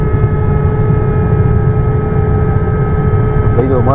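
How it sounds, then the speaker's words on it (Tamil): A passenger jet flies through thick cloud and rain on a turbulent leg toward Singapore, its cabin hum a steady, loud drone with a few fixed tones, and a voice enters briefly near the end. "ஃப்ளைட் ஒரு மாதிரி சவுண்டு கேட்குது"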